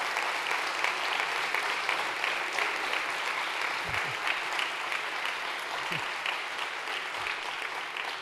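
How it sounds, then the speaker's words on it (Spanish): Church congregation at a Sunday evening service applauds steadily, a continuous wash of many hands clapping at moderate distance, with a few faint low thumps underneath. "dale fuertes aplausos a Jesús"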